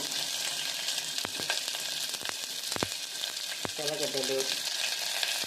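Onions frying in oil with a dried red chilli in a pan for a ridge gourd curry, a steady close sizzle broken by a few sharp stirring scrapes and clinks, no talking.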